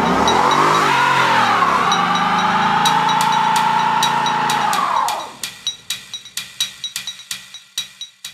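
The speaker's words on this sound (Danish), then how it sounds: "Bilen låser forhjulene for dig, og du brænder dækken af." A Ford Mustang GT V8 roars at sustained high revs during a line-lock tire burnout for about five seconds, then cuts off abruptly, leaving a series of sharp, evenly spaced clicks.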